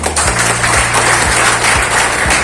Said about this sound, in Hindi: आप लोगों के लिए एक जोरदार तालियां बजाएं